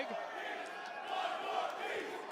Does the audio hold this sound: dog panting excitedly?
no